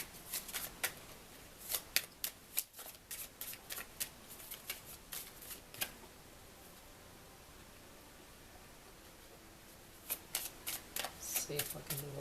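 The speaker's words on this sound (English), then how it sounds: "I won't shuffle for one more because I know what my shuffling will be like" Deck of cards being shuffled by hand during a card reading, crisp close riffles and flicks in quick bursts, pausing for a quiet stretch before starting again.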